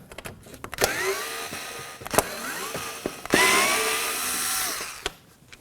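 Four Phillips screws are backed out with a Phillips head screwdriver during radiator replacement on a 2016-2020 Kia Sorento 2.4L L4, giving close, irregular clicks and scraping squeaks with short bursts of turning and a few sharp taps.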